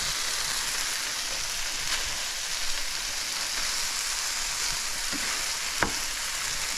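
Bok choy stems sizzling in a hot pan with dried shrimp, a steady dense crackle of frying with a few sharper pops near the end, no voices.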